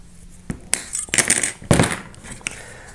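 Wire is snipped with cutters for a mosaic wire flower, giving a few close, bright clicks and metallic snaps with light handling rustle between them.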